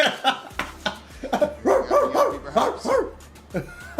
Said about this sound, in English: I think Starkzell might have been barking a little.